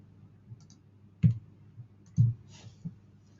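Computer mouse clicks on a desk, two clear, close thumping clicks about a second apart, followed by a softer third.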